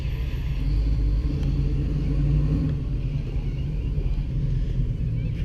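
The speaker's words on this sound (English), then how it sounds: "Nice Camaro." A Chevrolet Camaro at a cars-and-coffee meet at Largs Bay gives a steady, deep low rumble that stays even and fairly loud throughout, mixed with light wind noise and no clear talk.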